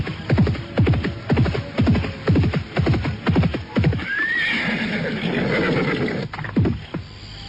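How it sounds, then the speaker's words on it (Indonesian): Horses gallop in from a distance in a radio drama, their hoofbeats a steady pounding rhythm that grows closer and louder, with a horse whinnying midway and loud galloping continuing to the end. "Mendadak dari jauh terdengar derap kuda yang semakin lama semakin dekat."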